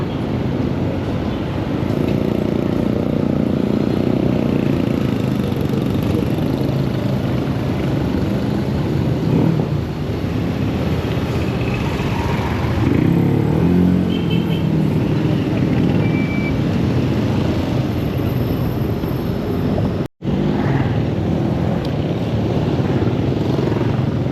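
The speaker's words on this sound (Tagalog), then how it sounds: "traffic na naman" Road traffic on a commute home from work makes a loud, continuous rumble of passing engines and tire noise, steady throughout with one brief dropout near the end.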